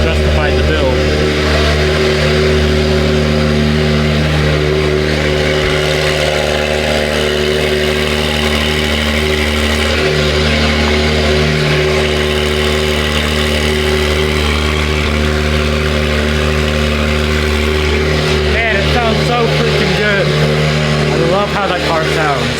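A tuned Mitsubishi Evo 8 engine idles with a deep, steady drone and swells into revs now and then, loud and close throughout the stretch.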